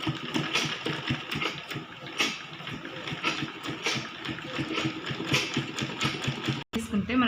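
A sewing machine stitches a kids' cloth bag made from old pants with a steady, fast mechanical whir and needle chatter, while someone talks over it.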